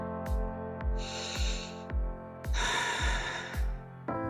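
Audible breaths are drawn in and out during a yoga pigeon pose, two long airy hisses over soft rhythmic background music with regular low pulses.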